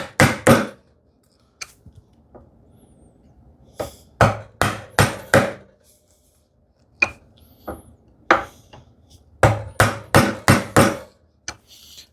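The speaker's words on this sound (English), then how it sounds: "I will change the chisel direction right up against the wall but leaning this way" A hand chisel is driven into wood by hand, sharp woody knocks arriving in quick bursts of three to five strikes separated by quiet gaps, close and clear with no talking.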